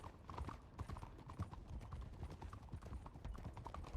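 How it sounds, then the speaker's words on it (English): Steady clip-clop of a horse cantering on a trail in the Wild RP roleplay video game, the hoofbeats close and continuous, with the occasional faint voice in the background. "It's up to a canter where you got people to find."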